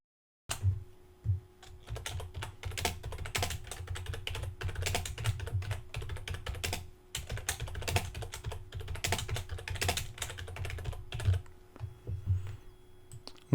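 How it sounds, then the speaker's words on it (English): Steady rapid keystrokes tap on a computer keyboard as text is entered, close and clear, with brief pauses between bursts and no voices. "I'm going to type in my text."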